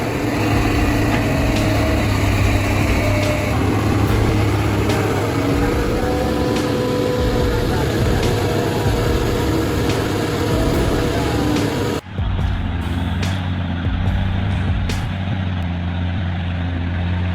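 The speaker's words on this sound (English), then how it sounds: "The roar of the powerful engine echoed across the hillside" A powerful logging truck engine roars steadily on a dirt hillside slope, loud and close for the full length with a constant heavy drone and a brief dip partway through, with no talking.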